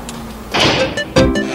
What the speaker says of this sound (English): Close the door, eh?